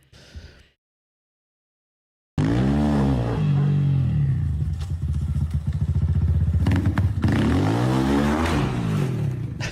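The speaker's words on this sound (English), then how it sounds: "it sounds like they got about a 250 in that thing. That's definitely some type of motorcycle engine." A small motorcycle engine of roughly 250cc bursts in after a short silence, running loud and close with a steady buzzing drone and rising and falling revs, alone without talk.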